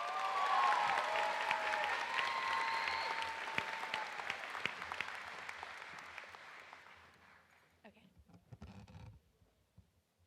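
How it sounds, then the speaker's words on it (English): Crowd applauding at a high school commencement ceremony, loud and sustained at first with a few cheers, then gradually thinning out to scattered claps and a few stray knocks near the end. "Please give Lila a round of applause."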